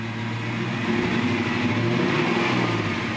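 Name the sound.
Land Cruiser engine with aftermarket exhaust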